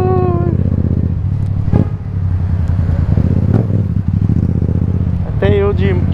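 A motorcycle courier's bike riding through London traffic, a steady engine drone with rumbling throughout and brief revs, loud and close, with someone talking over it.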